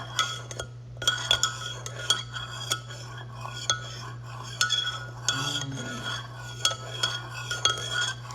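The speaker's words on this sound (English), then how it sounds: "So let's stir it up" A spoon stirs hibiscus rose tea in a cup, clinking against the sides in irregular light taps over a steady low hum, close and alone without talk.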